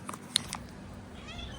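A short, faint meow sounds over low background noise, brief and somewhat distant.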